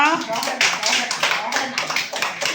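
A group of children clap their hands in a loose, repeated rhythm during a walking-in-a-straight-line activity at a village centre, the claps close and crisp, with a voice speaking alongside.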